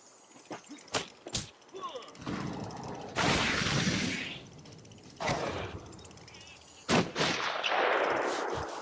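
Sniper gunfire in the video game Batman Arkham Asylum: sharp, loud shots at irregular intervals with rumbling bursts and game effects between them, and a voice reacting between the shots.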